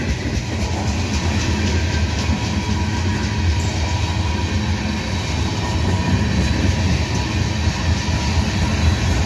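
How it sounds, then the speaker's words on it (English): A freight train rolls past steadily on its way out of Atlanta toward Greenwood, its rumbling wheels and rail noise forming a loud, continuous wash that holds for the whole stretch with no pauses and no voices. "Train coming out of Atlanta, going to Greenwood to change crews."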